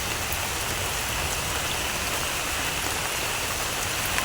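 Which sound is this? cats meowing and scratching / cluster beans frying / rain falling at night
rain falling at night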